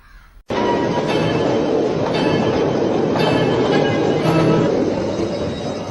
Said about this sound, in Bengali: ট্রেনটা কিনলাম কেমন হলো দেখো